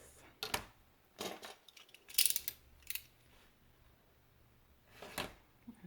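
Scissors trim paper for a lotus flower mini album in a few short, quiet snips and crisp cuts spaced out over several seconds, close-up with no speech.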